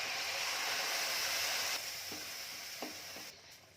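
Moringa leaf curry with ground coconut and cumin stirred in a pan, a steady close sizzling hiss with a few soft scraping strokes, quieter toward the end.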